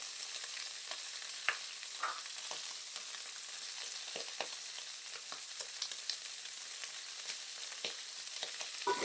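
Onions, garlic and ginger fry in a pan for a Kenyan-style beef stew, giving a steady close hiss of sizzling oil with occasional small crackles and pops throughout.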